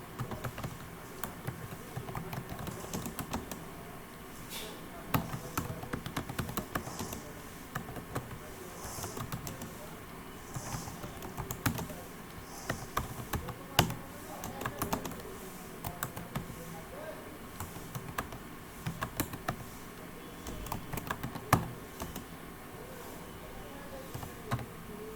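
Steady typing on a computer keyboard while writing a Microsoft Word 2013 document, with a fast run of close, crisp key clicks that come in bursts and short pauses, alone with no talk.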